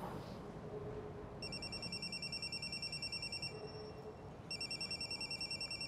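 A telephone rings with a rapid electronic trill in two bursts, fairly clear over a hissing background, with a brief pause between them.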